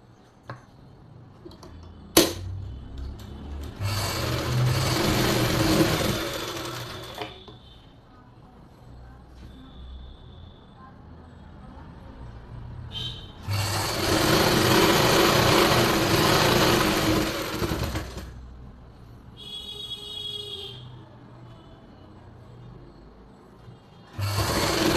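A sewing machine stitches a palazzo in two long whirring runs of several seconds each, close and steady, with quieter handling sounds and brief clicks between them.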